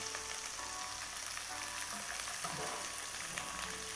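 Chopped onion and ginger fry in oil for rava upma, a soft, continuous sizzle heard fairly quietly and evenly with no one talking.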